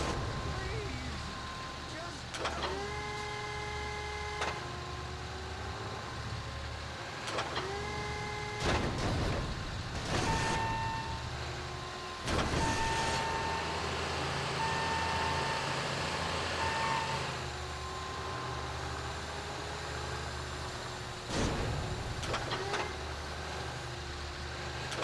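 A container handler vehicle working a port in the video game Grand Theft Auto 5, with engine drone, repeated reversing beeps and clanking metal impacts, amid game ambience.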